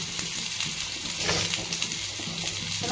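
Potatoes sizzle steadily in a pan over a low flame, with yardlong beans just being added, a continuous close frying hiss with soft stirring scrapes and no talking.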